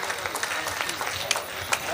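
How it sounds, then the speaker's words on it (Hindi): An audience at a Rajasthani comedy poetry event (kavi sammelan) breaks into applause, a diffuse wash of clapping with a few sharper claps standing out, swelling slightly toward the end. "जोरदार तालियां बजा"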